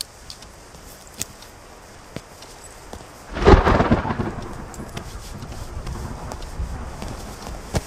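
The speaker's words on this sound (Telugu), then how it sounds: "వర్షం ఇప్పుడప్పుడు తగ్గేటట్లేదు" A rain-soaked thunderstorm in a film scene, with faint background patter and scattered clicks, then a loud crack of thunder that rolls and fades over several seconds.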